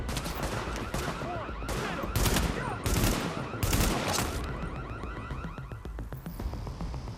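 Assault rifle fire aimed at enemy rioters in Tom Clancy's The Division, heard as loud repeated bursts of automatic gunfire close by, with stretches of shooting and brief gaps and ongoing battle noise underneath.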